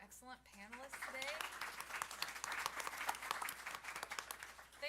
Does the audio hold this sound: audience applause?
yes